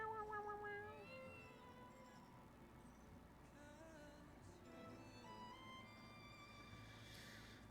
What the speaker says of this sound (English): I heard the kitty.